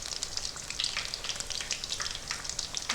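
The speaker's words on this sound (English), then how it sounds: "Cook each side for 2 minutes until gold and brown color." Homemade orange chicken pieces fry in a pan, browning on each side with a constant close, crackling sizzle and no pauses.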